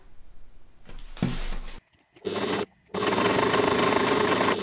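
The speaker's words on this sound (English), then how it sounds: "Now I'm going to stitch straight across here." A sewing machine stitches binding straight across passport pocket pieces for a crossbody bag, running in short close bursts separated by brief pauses, then a longer steady run.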